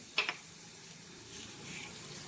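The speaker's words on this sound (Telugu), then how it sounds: "ఇప్పుడు నూనె కాగనిద్దాం పెట్టింది కదా ఇప్పుడు మినపప్పు వేద్దాం జీలకర్ర వేద్దాం" Urad dal and cumin seeds crackle in hot oil while a tempering is prepared for a mango and carrot chutney. A quiet, steady sizzle follows a couple of sharp pops at the start, with no voices.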